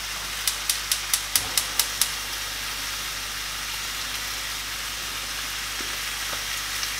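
Food frying in oil in a pan over medium-high heat, a steady close hiss running throughout, opened by a quick series of about eight sharp clicks in the first two seconds.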